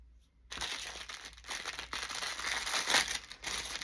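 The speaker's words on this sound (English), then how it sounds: "Get it out of that crinkly paper." Crinkly paper being crumpled and handled up close, a steady run of crackling rustles with sharper crunches, no voices.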